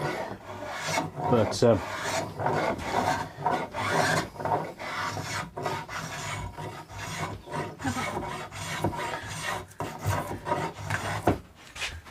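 A Japanese Shinto saw rasp files a wooden guitar body in close, rhythmic rough strokes with brief gaps between them, and a word or two of talk.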